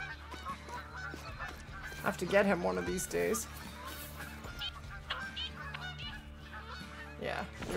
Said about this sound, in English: those are all geese.